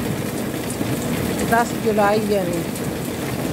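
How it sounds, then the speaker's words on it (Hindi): Heavy rain pours steadily as a broad, continuous hiss throughout, with someone speaking briefly over it. "आज बारिश हो गई"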